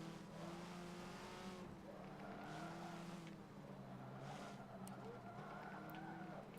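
A car in Forza Motorsport 7 gives a raspy, intense exhaust note. It holds a steady engine drone that rises and falls with revving and stays at moderate level throughout, with no talk.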